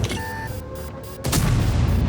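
A Type 5 Heavy tank fires its cannon in a video game, a single loud, close, deep boom that cuts in sharply over a steady rumbling engine drone and then rings out.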